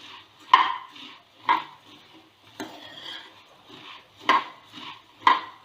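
Puffed rice (kurmura) being stirred and tossed in a bowl, giving several distinct dry rustling, scraping bursts in a loose rhythm, fairly close and moderately loud with quiet gaps between strokes.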